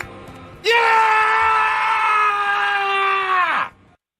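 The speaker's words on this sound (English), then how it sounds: "We each took a turn at Guttural Scream at 6 a.m." A single loud, sustained guttural scream from an adult voice, taken as a turn on a morning sports talk show at 6 a.m. It holds steady for about three seconds before cutting off, with no talk over it.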